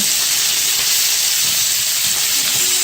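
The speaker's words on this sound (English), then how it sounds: "We're going to add in the sausages. So what you're looking for here is you're looking to just lightly saute and brown them" Rookworst sausages lightly sautéing and browning in a pan, giving a loud, constant hissing sizzle that stays even and unbroken throughout, with no voices.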